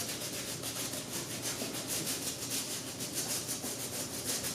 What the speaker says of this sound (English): So take the brush, scrub all that off.